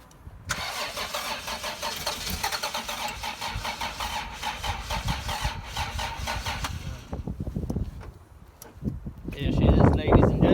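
A 3-litre Toyota Supra 7MGE non-turbo engine on jump leads cranks steadily for several seconds with a rapid rhythmic churn. It catches and fires into a loud, rough rev near the end, while voices talk lightly in the background.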